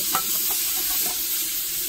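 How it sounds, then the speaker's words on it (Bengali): Coconut paste hitting a hot wok over a strongly burning stove sets off a loud, close, steady sizzle with a few scraping stirs early on and no voices. "কড়াইটা গরম হয়ে গেছে, এবারে কিন্তু আমি এই পেস্ট করা নারকেলটা দিয়ে দেব"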